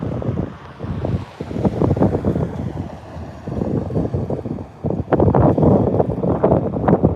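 Strong outdoor wind buffets the microphone in rumbling, gusty surges that swell and ease over several seconds, growing rougher toward the end, with no clear voices.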